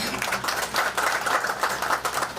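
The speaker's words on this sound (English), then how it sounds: "A round of applause for him." Applause from a crowd at an outdoor tree-planting event beside the Thika-Kenol road's Gacharage Interchange, steady rippling clapping that carries on throughout the brief stretch.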